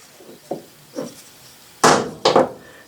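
A spring-loaded center punch snaps against metal along a marked line, giving four sharp clicks: two lighter ones spaced apart, then two louder, closer snaps near the end.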